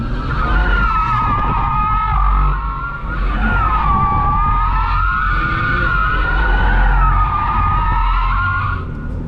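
Tires of a 2024 BMW M4 Competition xDrive (G82) squeal loudly and steadily while the car slides with a little power on, a sustained screech with a wavering pitch lasting the whole stretch, with engine noise underneath and no talking.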